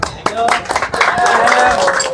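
Clapping from a group at a Filipino congratulations ceremony for trainees and staff, sharp claps breaking out and then thickening into steady applause while a voice talks over it.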